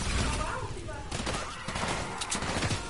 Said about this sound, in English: Shooting somewhere around here.